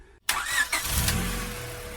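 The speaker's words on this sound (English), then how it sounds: "She starts the car and puts it in reverse" A car engine cranks and fires up abruptly after a brief silence, then settles into a steady low idle with a faint whine as it shifts into reverse, heard alone.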